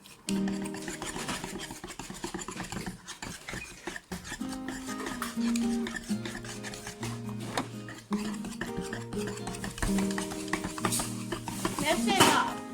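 Waffle batter made from a pancake recipe being stirred in a bowl, a steady scraping and clinking of utensil against the dish over about thirteen seconds, close and moderately loud, with background music playing and no speech.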